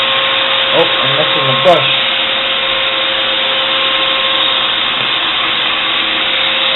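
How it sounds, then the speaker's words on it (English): A handheld vacuum cleaner runs continuously at close range, a steady whining drone while cleaning an HP desktop computer; a person talks briefly over it near the start. "So I take my handy vacuum cleaner that I have here."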